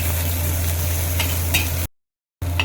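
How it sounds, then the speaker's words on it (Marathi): Sliced onion frying in oil until light pink makes a continuous close sizzle with light stirring scrapes, cut off by a short silent gap before resuming. "हलका गुलाबी रंगावरती कांदा फ्राय करून घेऊया"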